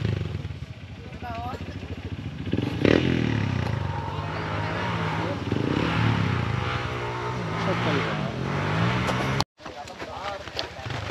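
Motocross motorbikes racing at a fiesta on Guimaras Island in the Philippines, engines revving and droning loudly and continuously at close range with crowd and outdoor noise, while people talk throughout.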